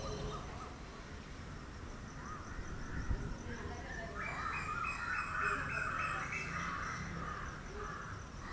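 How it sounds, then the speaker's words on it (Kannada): Early-morning birdsong at a Bengaluru railway station, with crows cawing and birds calling in bright, repeated bursts over a low background murmur, strongest midway before easing off. "ಎಷ್ಟು ಚೆನ್ನಾಗಿ ಪಕ್ಷಿಗಳು ಚಿಲಿಪಿಲಿ ಕೇಳಿಸ್ತಿರುತ್ತೆ."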